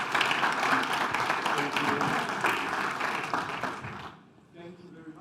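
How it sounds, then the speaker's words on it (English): An audience at a circular economy forum session applauds as the moderator walks onto the stage. The dense, even clapping lasts about four seconds before falling away quickly. "Let's give him a round of applause as he comes to the stage."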